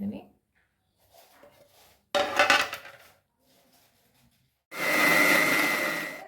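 A voice talks with some clinking kitchen sounds, then a loud electric mixer grinder whirs into action up close for a couple of seconds, grinding tamarind and coriander leaves for fenugreek chutney.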